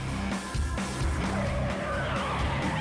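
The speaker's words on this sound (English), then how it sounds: "The car slams into another vehicle." A speeding car skids with squealing tires just past a busy intersection before crashing into another vehicle, a loud, continuous screech over engine noise with no voices.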